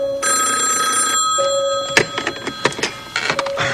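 A telephone bell rings loudly in a 1980 TV soap opera scene, a sustained electric ring followed by the clatter of the receiver being picked up.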